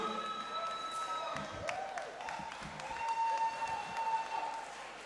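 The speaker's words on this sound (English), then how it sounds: "another round of applause for Dr. Alfred Patrick Adokwe" Audience applause at a pharmacy school white coat ceremony, a broad wash of many people clapping at moderate distance, with tonal sounds and some cheering mixed in.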